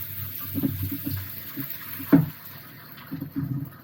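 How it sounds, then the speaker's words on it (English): Coconut milk pours into a cooking pot while making Hudutu soup with fish, giving soft, uneven liquid glugs and splashes, with one sharper clunk midway. "next step is to pour in the coconut milk here. So I'm going to go ahead and do that."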